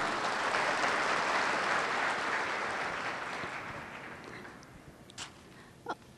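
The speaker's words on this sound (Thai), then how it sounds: "ก็อยากให้ทุกท่านปรบมือดัง ๆให้กับคุณนรงศักดิ์และคุณกระยาบุญศรีดังๆ เลยค่ะ" A crowd applauds steadily, dense clapping that gradually fades out, followed by a couple of isolated sharp claps near the end.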